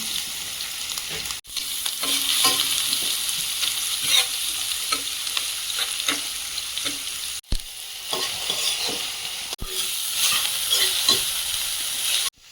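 Black cumin, dried chili and old garlic sizzle loudly in hot oil, a steady bright frying hiss with stirring scrapes and a few brief breaks.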